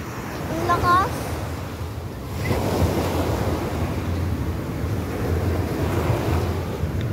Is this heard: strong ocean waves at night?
yes